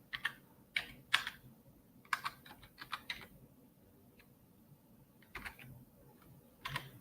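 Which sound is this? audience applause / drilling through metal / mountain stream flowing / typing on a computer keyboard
typing on a computer keyboard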